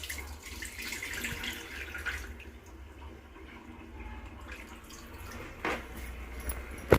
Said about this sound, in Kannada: ಹಿಂಗೆ ಸುಮ್ಮ ಹಳವಾರ ಒಂದು ಜೋಲಿಲೇ ನೀರು ಚೆಲ್ಬಿಡ್ತೀನಿ.